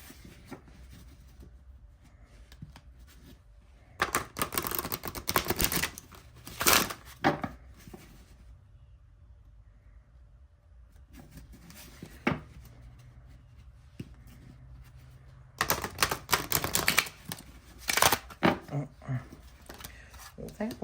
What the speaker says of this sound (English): Let's see if I can shuffle this.